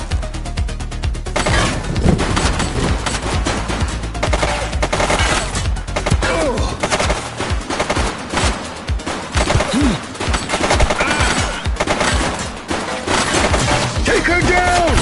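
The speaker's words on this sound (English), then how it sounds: "She's shooting!" Gunfire from a shooter in the police video game The Precinct: a continuous, busy barrage of shots and impacts over a background of game sound and music for the whole stretch.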